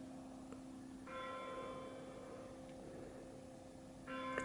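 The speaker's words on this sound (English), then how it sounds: "there goes the bell. Oh, the bell." Distant church bell striking six o'clock, faint resonant tolls ringing out with a lingering hum between strikes, heard from indoors in a quiet room.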